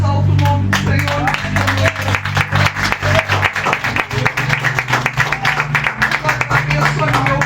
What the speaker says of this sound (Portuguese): As palmas que louvam e exaltam o nome do Senhor.